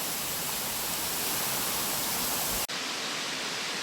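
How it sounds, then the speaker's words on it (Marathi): Marleshwar temple waterfall roars as a loud, dense, steady rush of falling water, broken by one sudden cut before the wash continues slightly thinner. "हा आहे मार्लेश्वर देवाचा धबधबा"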